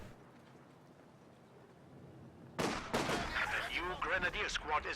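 Artillery fire in the video game Company of Heroes 2 hits after a quiet ambient stretch, with a sudden loud blast and then a rolling barrage of explosions and crackling impacts overlapped by a game voice.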